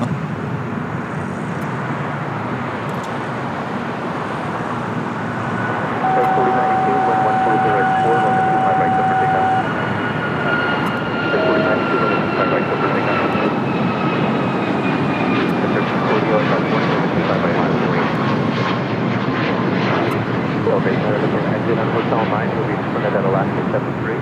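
An Alaska Airlines airliner at LAX, on a flight to or from Dulles, rumbles with a steady, broad engine roar that holds loud and close for the whole stretch, with a faint whine rising and falling through it.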